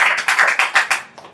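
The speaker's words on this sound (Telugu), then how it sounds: "గట్టిగా చప్పట్లు కొట్టి దేవుని కనపరచాలి" Church congregation clapping loudly during a Christmas sermon, a quick run of about eight sharp claps in an uneven rhythm, fading toward the end.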